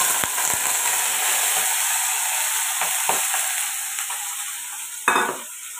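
Chopped onion and broken green chilies fry in a pan with a dense, continuous sizzle, punctuated by occasional scrapes and taps of a spatula, close and steady with no talking.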